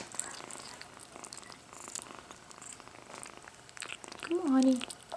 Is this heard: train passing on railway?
no